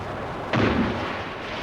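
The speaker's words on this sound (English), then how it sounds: "For 5 hours, these aircraft bombed and strafed the fleet sitting in the bay." A sudden loud blast as aircraft bomb and strafe a fleet in the bay during the 1982 Falklands War, a single explosive burst decaying over a continuous noisy rumble.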